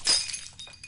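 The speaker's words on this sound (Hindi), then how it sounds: "अरे गिलास फूट गया।" A drinking glass breaks indoors in a single sharp shattering crash, followed by a few small tinkling fragments settling in a brief, quiet scene.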